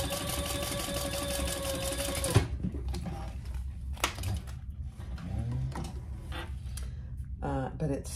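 A sewing machine stitches a toiletry cosmetic bag in one fast, steady, close run that stops abruptly after about two seconds. Quieter handling clicks and faint background sounds follow.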